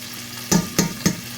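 Angus sirloin steak with vegetables frying in a pan under a steady low hiss, broken by three quick scraping strokes as the meat is turned.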